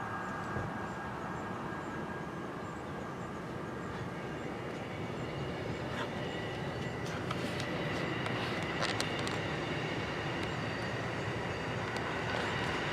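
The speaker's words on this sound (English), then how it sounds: "I'm trying to catch the Amtrak." Amtrak passenger train bound for Chicago rolling past an airport area, a steady broad rushing rumble at a distance with faint rattling clicks from the wheels and cars.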